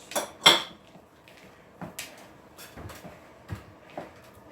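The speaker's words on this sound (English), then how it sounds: "Then, again, we mix it all around." Spoon scraping and clinking against a bowl while a thick, cookie-dough-like mixture of ingredients including salt is stirred, a few sharp knocks up front, then irregular softer taps and scrapes, close and fairly quiet.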